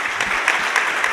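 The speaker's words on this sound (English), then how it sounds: "Let's give them another round of applause." Audience applause fills a short moment at a computer science education conference, a dense, steady patter of many hands clapping close by, with no talk over it.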